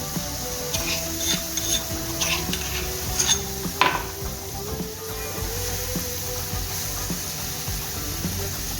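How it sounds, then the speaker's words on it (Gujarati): Spice tempering with curry leaves and asafoetida sizzling in hot oil in a pan, a steady close fizz with stirring and a few sharp metal clinks from utensils, no voices. "હવે આપણે આ વધારી નાખશું મસાલો"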